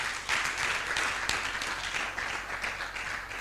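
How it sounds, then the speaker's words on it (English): Audience applause at an orientation ceremony for a training institute, a steady dense wash of many hands clapping together for a few seconds, fairly loud and continuous with no voices over it. "Please let's clap for him again."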